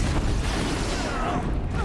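In the video game Horizon Zero Dawn, an explosion booms out, a loud rumbling blast that fills the mix with dense, sustained noise before tailing off.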